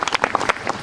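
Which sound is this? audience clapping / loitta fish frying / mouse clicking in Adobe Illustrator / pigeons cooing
audience clapping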